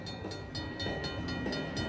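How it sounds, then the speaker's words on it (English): Rhythmic clickety-clack of a train passing steadily in a video game, a continuous rolling rumble with regular wheel beats and no talk. "I saw the major train go by again"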